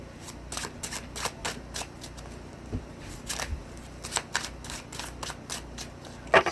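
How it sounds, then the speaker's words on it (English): Crisp, rapid riffling of a deck of oracle cards being bridge shuffled in a few irregular bursts with small taps between, close up and fairly quiet. "I'm going to kind of have to get used to the bridge shuffling with these"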